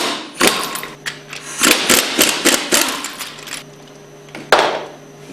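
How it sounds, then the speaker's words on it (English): A 1-inch socket works valve caps off a 2400 plunger pump, a series of close metallic clanks and ratcheting knocks in quick irregular bursts, then a pause and one final sharp clank. "Use your 1-inch socket to remove the valve caps."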